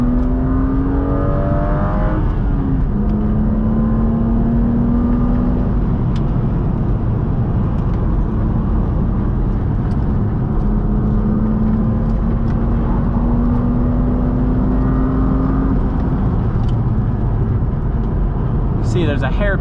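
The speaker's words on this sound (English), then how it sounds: "back on that gas, a little bit of oversteer." A car powers out of a canyon corner on a mountain road, the engine rising in pitch as it accelerates hard after downshifting into second, with a slight oversteer slide. The engine sits loud and steady throughout, and someone talks over it.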